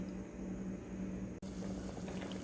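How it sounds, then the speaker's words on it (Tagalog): Fish sauce poured into a pot of chicken soup with potatoes and pechay, a steady soft liquid trickle with a faint low hum, briefly interrupted by a short break midway. "Lalagyan natin siya ng patis."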